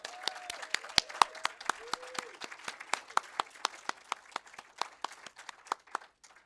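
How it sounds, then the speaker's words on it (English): A small audience at an AI sandbox event applauds the teams with sparse, distinct claps that thin out toward the end, fairly quiet and close. "another round of applause for all of the teams"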